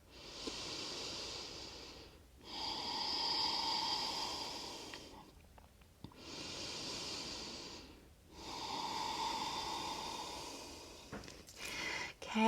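Slow, steady breathing held through a yoga pose in a throat chakra flow, with four long, airy breath cycles, each inhale and exhale separated by brief pauses, close and quiet, with no talking.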